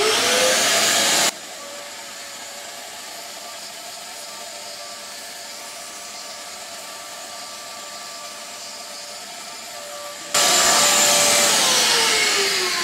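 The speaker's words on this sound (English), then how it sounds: "it's probably gonna get very noisy because the compressor, being a small compressor, will probably fire up instantly" A small air compressor roars loudly and steadily during walnut shell blasting of BMW N54 intake valves, a hissing blast that drops to a lower drone, then surges back at full volume near the end.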